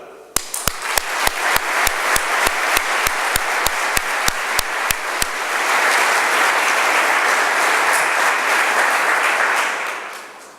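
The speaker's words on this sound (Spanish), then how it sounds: "Para todos ellos, para todos vosotros, pido un fuerte aplauso." Strong applause at a federation's 40th anniversary gala, beginning with a rhythmic, evenly spaced unison clap for several seconds, then breaking into loud, sustained free clapping that fades at the end.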